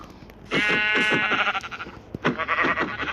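Several sheep bleats in a video game in quick succession, close and clear, with a short pause before a final bleat.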